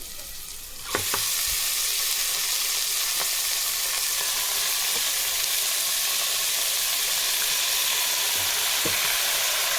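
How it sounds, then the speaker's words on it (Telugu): Mutton hits a pan of frying onions for mutton sambar with a sudden loud hiss after a brief quiet start, then settles into a dense, continuous sizzle with faint stirring taps. "మటన్ వేసుకొని ఫ్రై చేసుకుంటాము."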